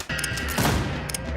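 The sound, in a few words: gunshots from the video game Westerado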